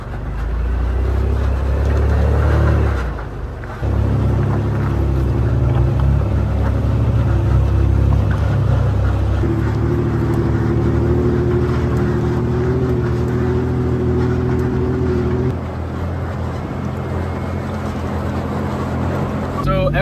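Daily-driver trucks with independent front suspension crawling the Holy Cross off-road trail, a steady mid-pitched engine drone with rattling and a brief dip, continuous and close throughout.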